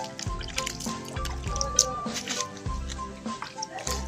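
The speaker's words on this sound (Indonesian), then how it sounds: "Coba kita ciprati air." Water splashes onto a rusty motorcycle exhaust being cleaned with cola and paste, giving close, irregular wet drips and squishy splatters that recur in a loose rhythm.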